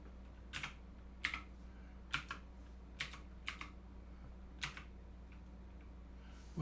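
Keys clack on a computer keyboard in short, separate bursts of a few strokes each, fairly quiet and close, over a steady low electrical hum.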